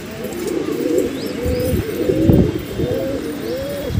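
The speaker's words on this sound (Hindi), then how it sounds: "और ये बड़ा है कबूतर।" Deep, rolling pigeon coos repeating in a steady rhythm, close by, with a faint chirp of another bird in the background.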